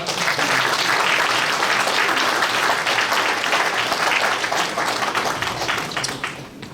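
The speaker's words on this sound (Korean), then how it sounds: "박수 부탁드립니다." Sustained applause from the audience at the 36th general assembly of the Christian Council of Korea, dense and steady throughout, tapering slightly near the end.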